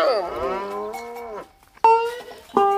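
Dairy cattle on a farm moo loudly and close by: one long drawn-out low, then after a brief pause two shorter moos in quick succession, with no talk.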